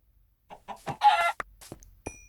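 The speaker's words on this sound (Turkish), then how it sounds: "Orada tavuk gördüm." Short bursts of chicken clucking from the video game Minecraft, a few separate clucks over quiet gaps, close and fairly loud with one sharper final squawk.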